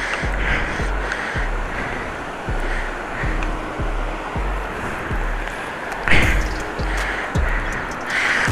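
River water rushes steadily beneath a wooden bridge of planks resting on a wire in the Zanskar valley, a loud continuous roar with periodic thuds of footsteps on the planks.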